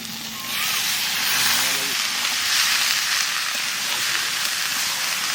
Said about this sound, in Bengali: এবার সেদ্ধ করে ডালটা দিয়ে দেবো